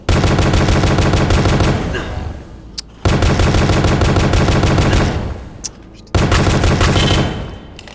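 Rapid bursts of automatic gunfire from The Pony Factory video game, three loud sustained volleys of fast repeating shots, each cutting off abruptly with a short gap between.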